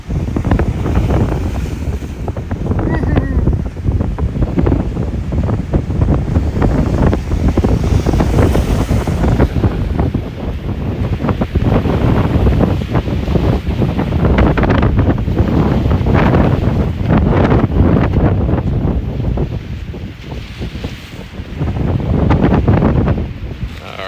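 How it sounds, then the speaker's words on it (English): Big storm-driven rollers surge through a pass during high-tide flooding from Storm Debby, a loud, continuous crash and wash of surf blended with heavy wind buffeting the microphone. "Some big rollers coming in the pass."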